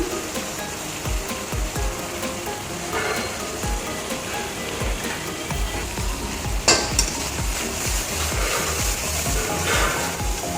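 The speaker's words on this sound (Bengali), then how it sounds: "ভালো করে একটু কষিয়ে নেব।" Pointed gourd sizzles and fries in a pan with poppy seed paste, turmeric and salt, with a steady crackle and scraping stirs that rise briefly into a sharp clatter.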